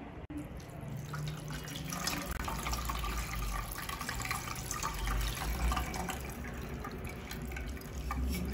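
Continuous splashing rush of cold water poured over cooked noodles in a pan or strainer, close and fairly loud, with no voices.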